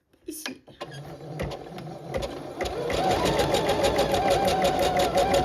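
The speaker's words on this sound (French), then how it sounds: "On baisse le pied, on baisse l'aiguille et on lance" An embroidery machine starts up and settles into steady, rapid mechanical stitching that grows louder and denser, with a short spoken word near the start.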